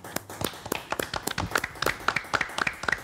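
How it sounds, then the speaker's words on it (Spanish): A small studio group claps for a guest during a radio interview programme, with irregular, close individual hand claps that come quick and uneven. "este aplauso grande y muchas gracias"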